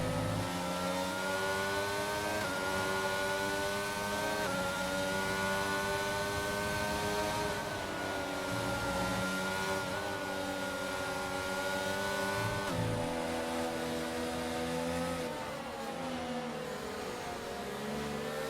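Formula 1 racing cars in a video game at the Miami circuit, engines screaming continuously at high revs with rising and falling pitch as gears shift during a close drag race, loud and unbroken.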